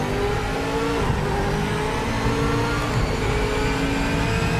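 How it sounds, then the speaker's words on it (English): V8 race car engines roaring in the Project Motor Racing video game, a loud continuous drone with rising and falling revs as gears change, heard alone without talking. "my voice isn't getting drowned out by the engine roar of these V8s"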